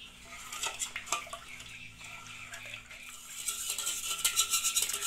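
Banana bread batter with coconut milk is stirred with a utensil in a bowl, giving steady scraping and light clinking strokes at close range that grow busier toward the end, with no talking.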